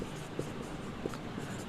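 Chalk tapping and scraping across a classroom blackboard as a teacher writes, soft intermittent strokes with a few sharper taps over a steady room hum.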